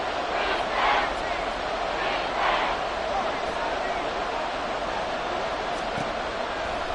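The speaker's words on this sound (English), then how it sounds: "This red zone is where the Seahawk crowd really makes it tough for an offense to communicate." The Seattle Seahawks home crowd at an NFL game roars steadily while the opposing offense is in the red zone, a dense, continuous wall of stadium noise that swells slightly at moments.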